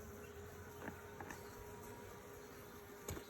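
Carniolan honey bees hum quietly around an open hive during an inspection, a soft continuous drone with a few faint clicks and bumps from handling the hive frames.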